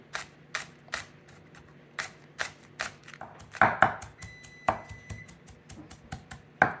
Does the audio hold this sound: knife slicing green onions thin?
yes